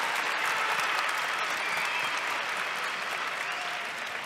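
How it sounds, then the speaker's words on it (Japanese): Large arena crowd at a kickboxing event in Ryogoku Kokugikan giving sustained, dense applause, a continuous roar of clapping at moderate distance with a slight fade toward the end. "皆さん大きな拍手お願いします"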